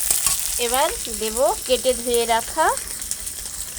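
Hinche greens fry in a pan with a steady, soft sizzle underneath someone talking close by.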